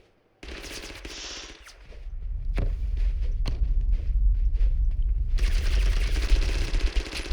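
In the battle royale game Totally Accurate Battlegrounds, a dense stream of automatic gunfire crackles close by, mixed with footsteps and scattered sharp shots, then a louder flurry of fire near the end.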